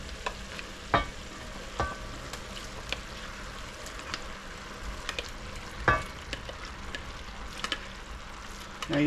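Chili ingredients, including chunks of meat, scrape and sizzle in a pan as they are stirred, with irregular clanks from the spoon over a steady frying hiss; near and moderately loud, no talking.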